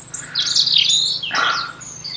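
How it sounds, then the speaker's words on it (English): A single bird calls loudly and clearly in two bright, sweeping bursts, chirping high and close against a quiet background. "That was a loud bird."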